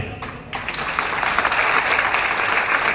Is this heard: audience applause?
yes